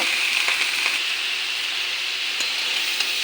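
Bottle gourd greens fry in a pan with a steady, close, hissing sizzle and a few faint stirring ticks throughout.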